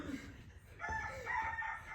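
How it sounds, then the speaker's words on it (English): A pet rooster crows once, fairly faint and slightly distant, in a short drawn-out call lasting about a second. "You weren't gonna tell me you had a pet rooster?"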